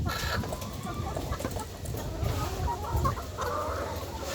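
Egg-laying chickens on a poultry farm cluck steadily and overlapping, a busy flock close by with scattered louder calls rising over a constant murmur of hens.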